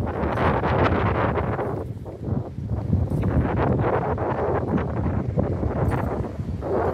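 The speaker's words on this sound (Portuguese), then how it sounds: "E o tempo tá se aproximando com ventania" Strong gusty wind before a storm roars and buffets the microphone continuously, with rustling and rumbling throughout and no voices, in Aparecida de Goiânia, Brazil.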